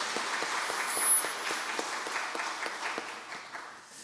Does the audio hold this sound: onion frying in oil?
no